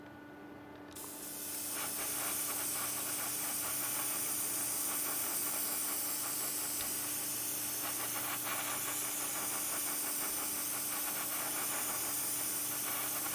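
An airbrush sprays paint with a steady, loud hiss that starts after a second and holds constant to the end, over a faint mechanical hum from a compressor, with no talking.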